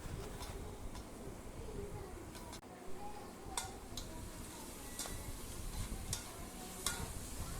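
A spoon stirs yogurt into biryani masala in a pan for chicken biryani, with a steady sizzle and repeated light scrapes and clicks against the pan, fairly close.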